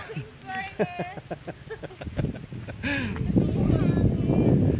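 People talk over steady wind noise that grows into a broad, rushing roar buffeting the microphone.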